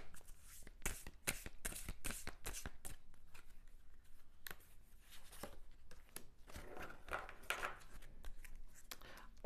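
Oracle cards being shuffled by hand, quick crisp riffling bursts in clusters, followed by softer sliding and rustling, close and fairly quiet.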